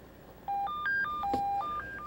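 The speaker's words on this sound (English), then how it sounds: "I always tell people to turn off the phone and my phone is ringing." A mobile phone plays a quick melodic ringtone, a run of short electronic beeps stepping up and down in pitch, clear and fairly close against a quiet room.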